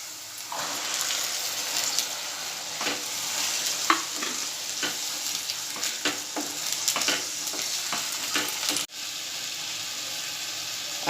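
Toor dal tipped into softened onions sizzles steadily in a pan while a spoon scrapes and stirs at intervals, the frying hiss continuing almost alone with a brief break near the end.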